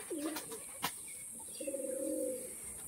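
Pigeons cooing in a loft, several soft low coos and short warbling calls, fairly faint against a steady high background hiss, no talking.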